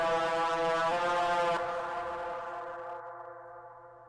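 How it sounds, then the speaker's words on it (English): Crunchy, gritty distortion artifacts on a sustained harmonic synth tone, with reverb fed into the distortion, ringing on and slowly fading out over a few seconds, alone without talk. "you get those cool like crunchy artifacts at the end"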